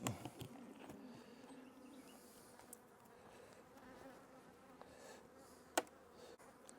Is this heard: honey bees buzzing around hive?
yes